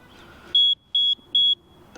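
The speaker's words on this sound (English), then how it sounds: "And if I keep trying, it'll actually beep." An electric scooter's alarm sounds when it is pushed: three short, identical high-pitched electronic beeps in an even rhythm, close and loud over a quiet background.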